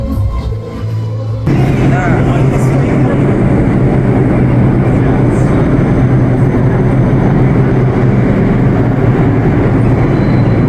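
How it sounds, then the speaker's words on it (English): A New York City subway train at rush hour, around 5 o'clock, starts with quieter station sound and then swells into a loud, continuous rumble and roar, close and sustained to the end. "Getting on the subway at rush hour around 5 o'clock."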